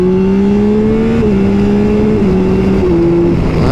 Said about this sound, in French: cette moto elle chante, elle est sympa comme tout de ce côté là